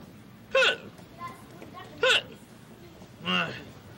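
Three sharp hiccups, evenly spaced a second or so apart, each a loud, abrupt voiced gulp over quiet room noise, with a faint murmur between them; from a Sesame Street episode.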